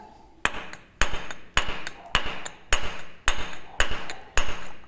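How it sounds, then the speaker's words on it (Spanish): A wooden mallet strikes stone in steady repeated blows while working the stone, about two per second, each a sharp close knock with a brief ring; no voices. "aquí vemos el impacto de la maza de madera"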